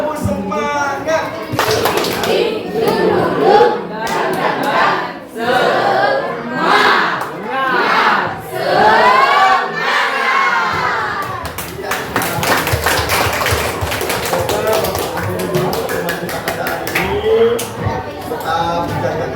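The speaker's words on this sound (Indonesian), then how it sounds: "Tepuk semangat." A school class in an Indonesian language lesson does a rhythmic spirit clap: sharp, patterned group claps and taps ring out close by, mixed with children's chatter and voices.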